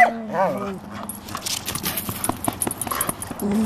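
A dog barks a few times at the start, followed by rapid clattering and tapping sounds with faint background chatter.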